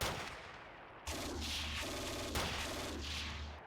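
Infantry rifle and machine-gun fire in the WWII strategy game Steel Panthers, sharp bursts and volleys repeating over a low rumbling background, moderately loud with no talking.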